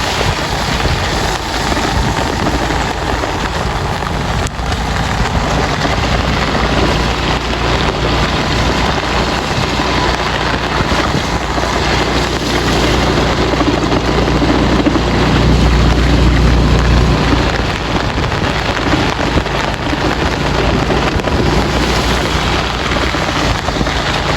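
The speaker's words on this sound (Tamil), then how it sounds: "அருமையாக காற்று மடிச்சு கொண்டிருக்கு" Strong wind roars steadily across a flooded coastline, a dense continuous rush with heavy microphone buffeting and no speech.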